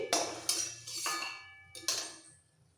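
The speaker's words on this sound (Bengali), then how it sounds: "সব কটা বড়ি তুলে নিচ্ছি" Fried lentil dumplings (bori) are lifted out of a pan with a metal utensil, giving three or four sharp scraping clinks over a soft sizzle of hot oil, close and moderately loud with no talking.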